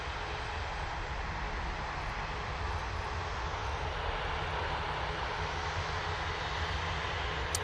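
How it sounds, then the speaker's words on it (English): A Ryanair Boeing 737 MAX 8 arriving from Alicante at Manchester Airport rumbles with a constant deep jet-engine roar, moderately distant and unbroken, with no one speaking. "Ryanair 737 MAX 8, coming in from Alicante."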